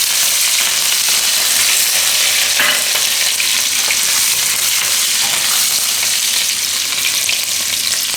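Cumin seeds, curry leaves and green chillies fry in hot oil for farali kadhi, making a loud, steady, close-up sizzle with light stirring sounds throughout.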